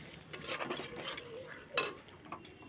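A spoon scrapes and stirs through chicken pakora curry with split yogurt in a pot, soft irregular scrapes and clinks against the metal, quiet and close, with no voices.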